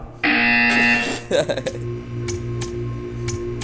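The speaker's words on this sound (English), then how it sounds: "You will hear a buzzer." Inside the Portal 2 video game, a loud, harsh electronic buzzer sounds abruptly for almost a second, followed by clattering mechanical noises and faint ticking, with a voice speaking over part of it.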